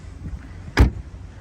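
A folding rear seat in a 2023 Hyundai Santa Fe XRT drops down with one short, solid thud close by, with quiet cabin stillness before and after.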